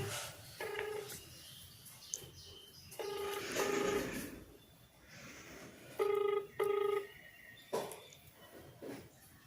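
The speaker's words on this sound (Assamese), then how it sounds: "মই ফোনটো লগাই লওঁ" A phone is dialed with a few short beeps, then the line rings in repeated tone bursts, quiet and close.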